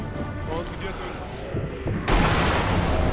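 Gunfire in the video game Sniper Elite V2, heard as a busy fusillade of shots and booms with a sharp, louder burst partway through, continuing to the end.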